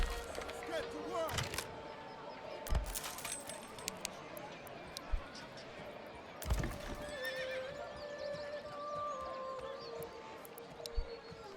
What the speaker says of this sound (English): That's a horse in there.